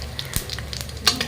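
Dry red chillies crackle and sizzle in hot oil in a pan, a close, short burst of spitting pops and hiss with a few sharper snaps.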